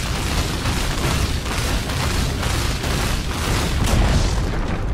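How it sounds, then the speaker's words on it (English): A Dota 2 tower collapses in a loud, continuous booming rumble of crumbling destruction that stays heavy and dense throughout, with no talk over it. "Dire's top tower has fallen."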